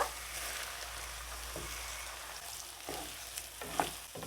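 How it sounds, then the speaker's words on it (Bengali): Rice grains being fried with ginger and garlic in a pan for egg pulao, a soft continuous sizzle with occasional faint scraping stirs. "এবারে চাউলটা ভেজে নেবো"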